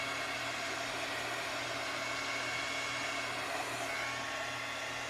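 A hair dryer runs steadily and close up, a constant loud whooshing blow drying a craft project, with no talk over it.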